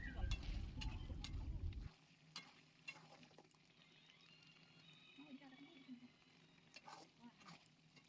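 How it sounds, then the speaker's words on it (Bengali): Spiced mutton kosha with ginger paste is stirred hard in a pan, a loud sizzling scrape at first that drops to a softer crackle with occasional clinks of the spoon against the metal. "এরপর ভালো করে কষিয়ে নিতে হবে।"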